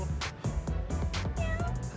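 A voice imitates a mournful cat meow, drawn-out and plaintive, close up with a few quick yowls in a row.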